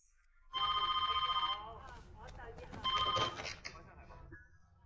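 A telephone rings loudly in a home, two bursts of bright electronic trilling with a pause between, while a person talks over and between the rings.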